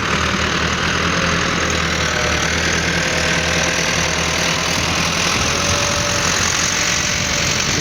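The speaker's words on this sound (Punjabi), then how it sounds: "ਤਿੰਨ ਟਰੈਕਟਰ ਬਿਆਕ ਟਾਈਮ ਇਕੱਠੇ ਚੱਲ ਰਿਹਾ ਜੀ" Massey Ferguson tractors, an MF 385 with a cultivator, an MF 375 pulling a laser land leveler and an MF 240, run together in a field, making a steady, loud diesel drone with a knocking idle throb that stays constant throughout.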